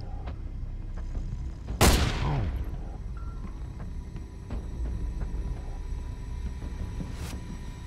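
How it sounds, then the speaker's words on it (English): A single sharp video-game gunshot from Beyond: Two Souls cracks out about two seconds in, ringing briefly over a low hum, with a fainter pop near the end. "I'm surprised nobody heard that gunshot."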